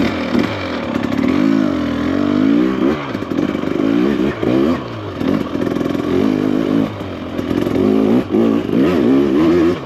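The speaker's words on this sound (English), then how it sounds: "Bike really pulls nicely in first gear" Husqvarna TE300 Pro dirt bike, a 2024 model, climbing hills in first gear, engine revving loudly and continuously with fluctuating throttle, plus clattering and scraping over the trail, close to the rider.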